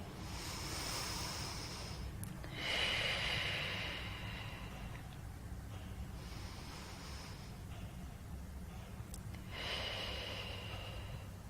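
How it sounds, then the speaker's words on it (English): Slow breaths in and out during Pilates pelvic tilts, several soft airy swells of breath spaced a few seconds apart over a quiet low hum. "breathe in to prepare, breathe out to imprint. Breathe in to arch away."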